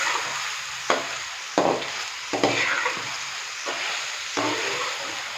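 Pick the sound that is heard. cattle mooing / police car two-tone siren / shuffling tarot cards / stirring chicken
stirring chicken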